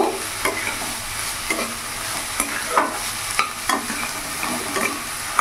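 Cabbage and capsicum, with peas, stirred in a pan for vegetable soup: repeated scraping stir strokes about once a second over a steady soft sizzle, close and alone.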